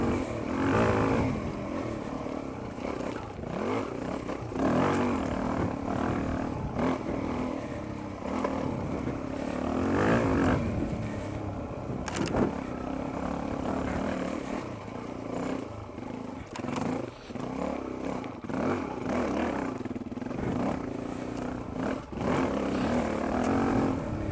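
Suzuki DRZ400E motorcycle being ridden, with a steady droning engine that surges and dips through gear shifts and clutch use, mixed with wind rush and faint talk throughout.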